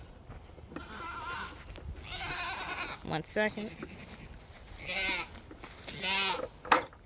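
Several goat bleats sound at intervals, wavering and nasal, with a person speaking briefly among them.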